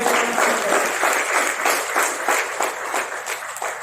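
Sustained audience applause fills a hall at a Hindi literary award ceremony, a dense steady clapping that stays loud throughout with no talk over it.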